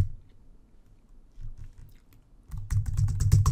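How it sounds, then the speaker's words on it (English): Computer keyboard typing, faint scattered clicks at first, then a dense, louder run of rapid keystrokes in the final second, with no talking. "So I'm just going to type in electrician."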